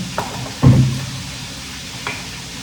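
Food sizzles softly in a pan, with a brief clatter of utensil against metal and a quieter tap a moment later.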